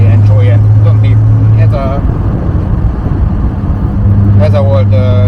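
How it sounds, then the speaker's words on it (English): A classic Triumph TR6 engine and exhaust rumble steadily while driving, with a low droning tone that dips briefly mid-clip before returning, close and fairly loud throughout. "just enjoy the sound from the exhaust when you're driving"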